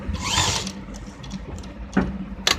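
A sewing machine stitching a patti paan neck patch runs in a brief whirring burst at the start, followed by short mechanical clicks and a couple of quick bursts of stitching.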